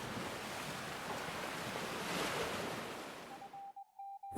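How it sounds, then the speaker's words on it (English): Surf waves wash onto a beach in a broad, rushing hiss that swells and fades, cutting off near the end as a thin electronic tone and a short sharp sound follow. "They reach the beach and heave their longboat into the surf"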